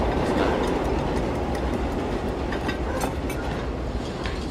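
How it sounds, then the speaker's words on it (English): A subway train rumbles steadily through a building in Se7en, a loud, continuous low roar with faint clattering that holds for several seconds without voices. "Subway."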